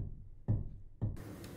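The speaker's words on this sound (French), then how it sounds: "Quand on va trop loin, il y a un bruit comme celui-ci." Faint dull wooden thuds of piano keys bottoming out at the end of their travel, two soft knocks about half a second apart, quiet and close.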